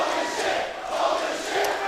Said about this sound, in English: Can't hear you over this crowd